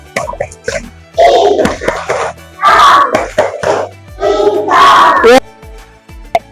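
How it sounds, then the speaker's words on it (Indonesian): A classroom group of teachers joins in a rhythmic clapping chant, voices and claps rising together in loud bursts with short pauses between them. "Coba bersama-sama tepuk semangat"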